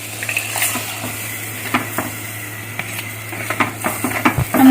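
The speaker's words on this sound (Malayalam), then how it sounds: "ഇനി നമുക്ക് ഇതിനകത്തോട്ട് അരപ്പ് ചേർത്ത് കൊടുക്കാം, അരപ്പ് ഒഴിച്ചു കൊടുക്കാം" A ground paste of coconut, cumin, shallots and garlic goes into a pan of tomato curry, with close wet stirring, scattered clinks of a utensil against the pan and a low steady hum underneath.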